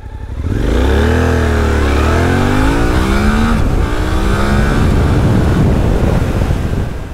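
Suzuki V-Strom 800DE motorcycle in A mode accelerating hard from standstill to 100 km/h, engine note climbing through rising gear pulls and shifts, loud and close with heavy wind rush.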